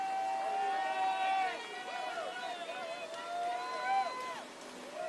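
Spectators at a canoe-kayak freestyle World Cup in Plattling, Germany shout and cheer loudly for a paddler, with high sustained whoops and rising yells from a nearby crowd.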